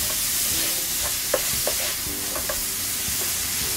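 Eggplant omelette (tortang talong) frying in a pan, a steady close sizzle with a few soft clinks and stirring scrapes over the hiss.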